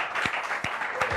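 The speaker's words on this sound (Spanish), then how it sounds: "Fuerte el aplauso, Mónica y Jimena." Dense applause from a TV studio audience on a Catalan/Spanish entertainment programme, steady and fairly loud throughout the short stretch, with a few sharper claps standing out and no voices over it.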